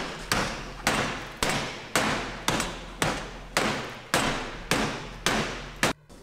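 A hammer strikes a steel door ten times in a steady rhythm, each loud ringing blow close and decaying before the next.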